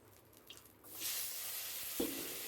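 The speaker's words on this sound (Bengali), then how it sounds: "এই ডাঁটাগুলো, পুঁই ডাঁটাগুলো ভেজে নেব।" Malabar spinach stems dropped into hot oil already used for frying fish start a steady, fairly loud sizzle after a quiet moment, with a brief extra burst near the end.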